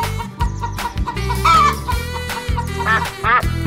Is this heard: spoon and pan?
no